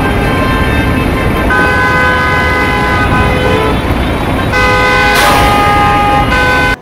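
Loud, congested rush-hour city traffic in Bucharest, with several sustained car horns honking and overlapping over a steady road rumble, one horn blast rising sharply near the end.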